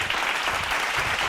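A congregation claps in a church after a doctor's testimony, a brief burst of dense, even applause from many hands filling the room, with no voices over it.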